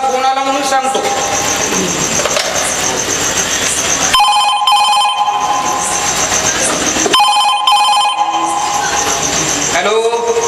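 A telephone rings loudly during a Marathi stage play, its bell repeating in steady bursts with short pauses between them and a constant backing hum underneath.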